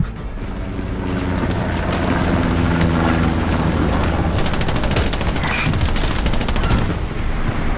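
Loud, dense bursts of rapid gunfire in the video game Hell Let Loose crackle almost continuously over a roaring background, with sharp cracks and rattling automatic fire.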